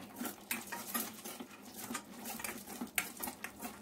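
Peanuts and cashews frying in a tablespoon of oil in a pan over medium-high flame, with a steady crackling sizzle and light scraping, clinking stirs throughout.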